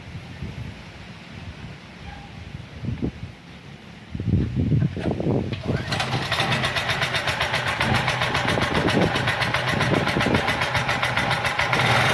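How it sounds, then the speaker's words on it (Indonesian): A 2000-watt portable generator starting up partway through and settling into a steady, loud buzzing engine drone with a fast pulsing rhythm, after some handling noise and rustling near the microphone. "kita coba tes pakai genset yang satunya lagi"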